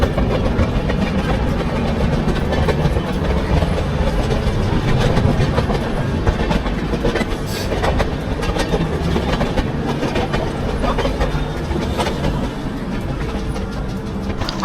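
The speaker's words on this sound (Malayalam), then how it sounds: "ഹൗറ സ്റ്റേഷനിലേക്ക് അടുത്തുകൊണ്ടിരിക്കുകയാണ് ട്രെയിൻ." The Steel Express rolls toward Howrah station past a large yard with many tracks, its wheels keeping up a continuous, loud clickety-clack over a heavy rumble from close by.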